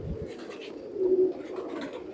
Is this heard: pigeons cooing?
yes